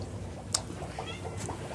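A hungry house cat gives a couple of faint, short meows at a distance, heard over a steady low background hum in a home where fish and a dog are kept.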